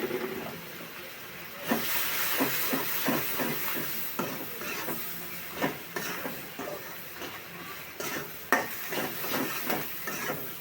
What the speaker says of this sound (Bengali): তেলেই আমি এখন পেঁয়াজটি দিয়ে দিব।